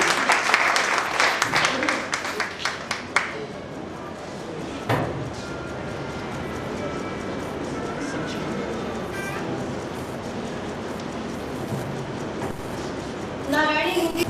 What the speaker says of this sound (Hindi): एक बार तालियां बजाएं उसके लिए।